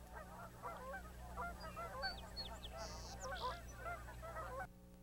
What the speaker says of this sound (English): watch the Canadian geese fly in